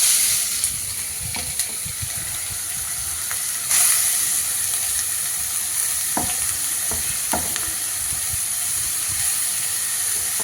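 Chopped onion drops into heated oil in a pan and fries with a continuous bright sizzle, broken by occasional scrapes and knocks of a stirring spoon, close up with no talk.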